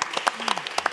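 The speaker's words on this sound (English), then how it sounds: "Give yourselves a round of applause, all the educators." Educators at a lunch program clap briefly, a sparse scatter of separate hand claps with a voice faintly underneath.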